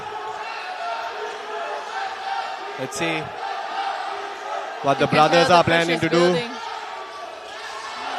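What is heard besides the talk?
loud crowd at basketball final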